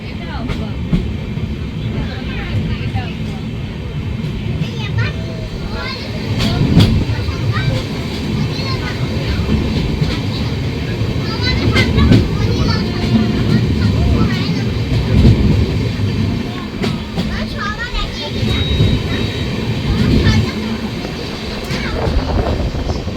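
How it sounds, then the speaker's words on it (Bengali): An LHB-coach Balurghat–Kolkata Tebhaga Express (13162) running just after pulling out of the Gazole halt: a steady, loud rumble of wheels and coaches with recurring rail clatter throughout, with some faint background voices. "আমাদের ট্রেনের পরবর্তী হল্ট গাজল থেকে ট্রেন ছাড়লো।"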